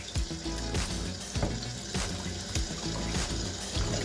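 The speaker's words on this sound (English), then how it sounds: "So to wash the bits under running water." Raw chicken pieces rinsed under a running cold kitchen tap, a steady close splashing water stream with irregular clattering handling knocks.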